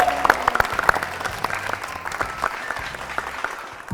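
An audience at a bootcamp challenge event gives light applause. The claps are uneven and fairly sparse, with individual hand claps standing out, and the clapping tapers off over a few seconds.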